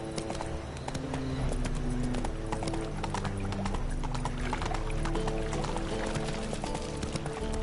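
Horse Roach's hooves clip-clop steadily and continuously at a trot in The Witcher 3, with a constant hum of background music underneath and no voices.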